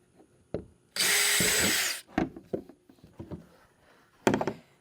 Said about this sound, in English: I'm going to go ahead and drill the hole through here